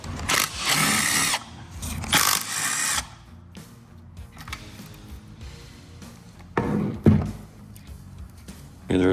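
A power tool whirs in short bursts as 12 mm detent bolts are backed out of a Honda Fit GD3 transmission, with clunks and quiet gaps between runs.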